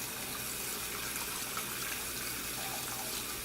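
Lettuce leaves being rinsed under cold running tap water, a steady, close hiss and splash of flowing water that continues evenly without pause or talk.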